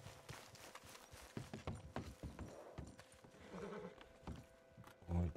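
Horse hooves clip-clop in Red Dead Redemption 2, a steady run of hoofbeats with a brief whinny, mixed with game ambience and a short louder thump at the end.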